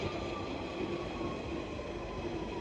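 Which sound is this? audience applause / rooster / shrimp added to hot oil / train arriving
train arriving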